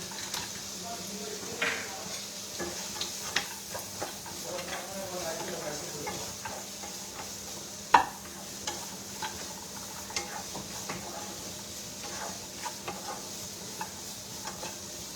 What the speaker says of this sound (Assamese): ইয়াতে মই ধুনীয়াকৈ এতিয়া কাজুখিনি দিওঁ 2 মিনিটমান